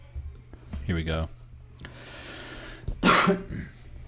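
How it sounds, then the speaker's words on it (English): A person recovering from a cold coughs in a short, harsh burst near the mic, with soft clicks and a faint voice earlier, during a live community art session. "Sorry about the coughing every once in a while."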